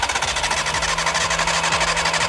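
An overheated car engine running with a steady, loud, rough idle drone and a faint rhythmic knock underneath, heard up close for a couple of seconds.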